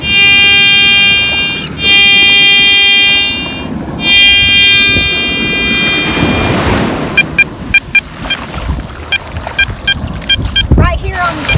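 An Apex metal detector in Salt mode on a wet-sand beach shoreline sounds sustained steady tones in several bursts, then a run of quick short beeps near the end, with surf and wind noise beneath.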